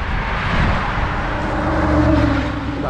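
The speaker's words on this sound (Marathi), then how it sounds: "गाड्यांचा पण आवाज किती झुकझुक येतो" Cars rush past on a road in America during a morning walk, a loud, continuous roar of traffic close by with tyre and engine noise swelling slightly toward the end.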